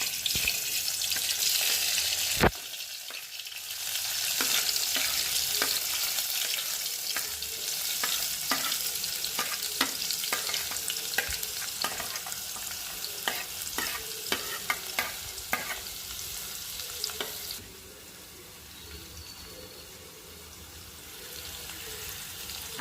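Chopped vegetables sizzling in hot oil for a dried bombil (Bombay duck) curry, a bright crackling fry with repeated clattering stirs, loud and close, easing to a softer sizzle near the end.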